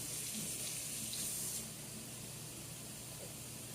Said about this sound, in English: And then I kick it the rest of the way with some cool water.